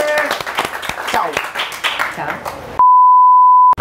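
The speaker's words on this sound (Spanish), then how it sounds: "Un fuerte aplauso para Natalie Toledo y Diego Espotorno, los invitados de esta noche" Audience applause with scattered claps for two comedians at the close of a live comedy show, a few seconds of clapping that cuts off into a steady electronic beep tone.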